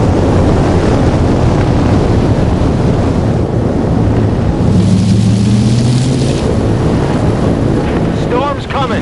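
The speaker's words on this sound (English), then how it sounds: "Storm's coming." Stormy ambience in the Forza Horizon 4 racing game on Fortune Island, with a steady loud roar of wind and rumbling low noise throughout, a brief lull near the end, and no clear distinct thunderclap.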